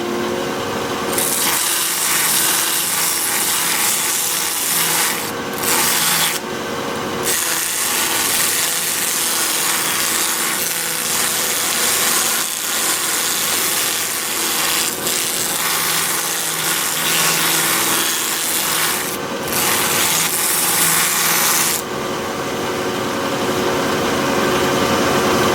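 A wood lathe spins an olive wood dish while it is sanded, giving a steady loud motor whir with a gritty abrasive hiss. The hiss swells and drops in a few short bursts, with no talking.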